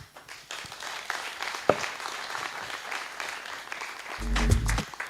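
Audience applause rises near the end at a stakeholders' workshop for the national pig value chain, a burst of clapping after quieter room noise and murmur.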